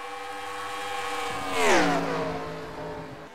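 Race cars in a speedway racing video game at California Speedway, engines droning with stacked harmonics, then one car sweeps close around 1.7 seconds with a rising-then-falling Doppler whine before settling back into a steady roar.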